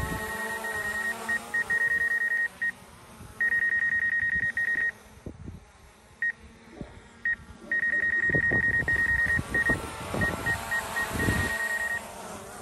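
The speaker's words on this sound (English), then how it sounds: "That's that sensor beeping." A DJI Mavic Air 2 drone's obstacle sensor sounds bursts of rapid, steady electronic beeps in repeated runs with short gaps, over low rumbling handling and outdoor noise near a parked car.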